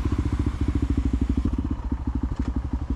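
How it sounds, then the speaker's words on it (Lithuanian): An enduro motorcycle engine runs close by with a fast, steady thumping beat, loud and unbroken throughout. "Parodysiu motociklą, paklausiu, kaip manam skamba."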